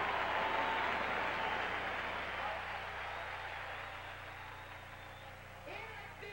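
A large baseball crowd fills Dodger Stadium in Los Angeles at a 1980 playoff game, a broad roaring wash of cheering and applause that slowly fades, with a distant public-address voice faintly audible late on.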